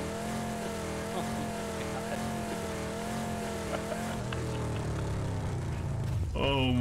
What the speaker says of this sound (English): Car's got some engine problems, dude.